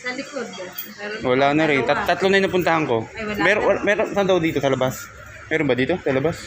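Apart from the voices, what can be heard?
No everyday noises stand out.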